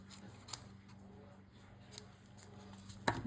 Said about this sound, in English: And get my scissors.